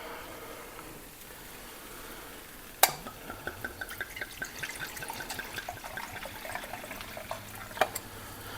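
A sharp clink, then dry white Pinot Grigio splashes and sizzles steadily into a hot pan for several seconds, ending with another small clink.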